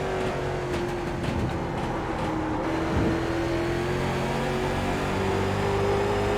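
A late model race car in the iRacing sim game pulls back onto the throttle at Concord Speedway. The engine holds a steady, loud drone that climbs slowly, with no talk.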